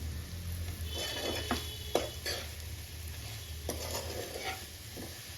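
Bitter gourd pieces fry in a pan with chili powder, a soft continuous sizzle broken by repeated close stirring scrapes and clinks of a spatula.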